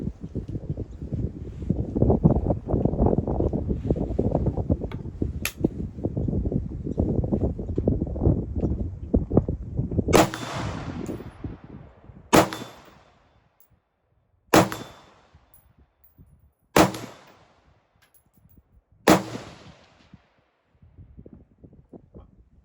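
Ruger Mini-14 rifle firing five reloaded rounds outdoors, five sharp, loud reports spaced about two seconds apart, following a stretch of wind and rustling noise.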